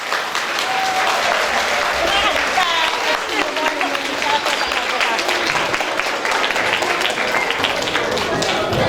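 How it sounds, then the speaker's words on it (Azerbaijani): An audience of teachers and pupils in a school hall applauds at a Flag Day celebration, dense sustained clapping filling the room with a voice faintly beneath it. "zaldakı müəllimlərdən, şagirdlərdən bugün sizə zövq verən bu bayram əhval-ruhiyyəsində olan tədbiri hazırlayan bu heyətə ürəkdən bir alqış istəyirəm"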